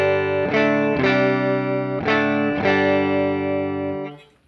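Electric guitar played on the neck pickup through a Marshall Plexi preamp simulation, four loud sustained overdriven chords struck in steady succession, the last ringing out before cutting off, no voices.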